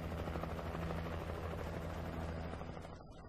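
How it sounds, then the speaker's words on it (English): Helicopter air support in the video game Alan Wake, a steady loud rotor drone with low thumping that holds for about three seconds, then begins to fade, with no talk. "I could use helicopter backup."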